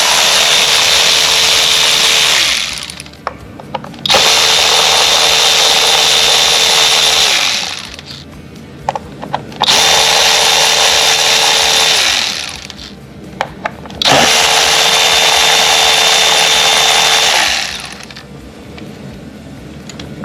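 A power tool with a socket spins out 8 mm bolts on a 2010–2014 Ford Fusion, four loud, close whirring bursts of a few seconds each, separated by short pauses.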